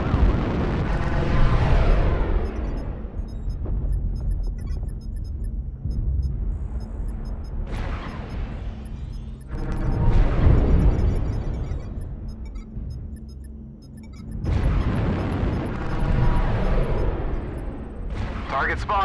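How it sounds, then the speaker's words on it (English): Artillery strike explosions from MechWarrior Online: a string of deep, loud booming blasts, several heavy impacts spaced a few seconds apart, each rolling into a long rumbling decay over continuous battle noise. "Artillery strike online."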